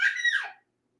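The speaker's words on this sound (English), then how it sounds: "I get distracted easily when my kids like run by and they yell" A child yells once near the microphone, a high, bright shout lasting about half a second before dropping to silence.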